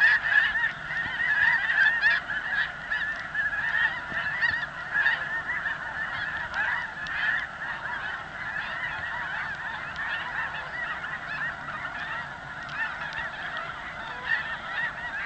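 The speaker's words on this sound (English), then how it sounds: "There is a couple geese out there anyway." A large flock of snow geese honks continuously, a dense chorus of overlapping calls at a distance.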